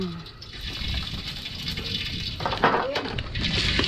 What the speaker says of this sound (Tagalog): maglalagay tayo ng konting ating cooking oil